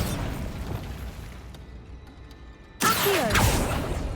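Bombarda spell in Hogwarts Legacy-style magic game: a quiet stretch gives way to a sudden loud blast that bursts in and rumbles with crackling debris, close and alone.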